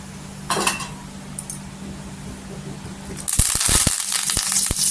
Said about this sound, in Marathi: या तेलातच आता कढीपत्ता टाकायचा